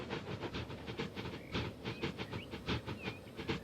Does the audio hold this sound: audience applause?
no